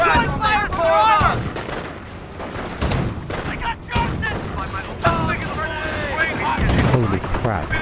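Dense gunfire crackles across a World War II battlefield in Company of Heroes, with sharp shots and volleys coming in rapid, irregular bursts while unit voices call out over the fighting.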